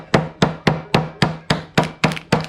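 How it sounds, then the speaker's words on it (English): A meat tenderizer hammer smashes something in a kitchen while making Munchkins, nine sharp, evenly spaced thwacks in steady rhythm, loud and close with no talking. "you don't need to buy this meat tenderizer hammer"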